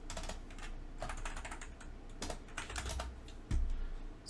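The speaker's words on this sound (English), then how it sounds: "and just type the word privacy policy." Quiet, close-up typing on a computer keyboard, a steady patter of light key clicks with brief pauses and a firmer tap near the end.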